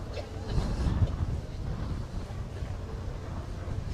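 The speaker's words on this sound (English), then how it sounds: "Wind's beginning to pick up a little bit" Wind buffets a microphone outdoors at a classic car show, a continuous low rumble that swells and eases slightly with no distinct gusts.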